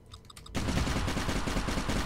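Turrets firing in the video game Fallout Equestria Remains: a brief tonal game sound, then a sudden burst of loud, rapid, continuous automatic gunfire that keeps rattling to the end.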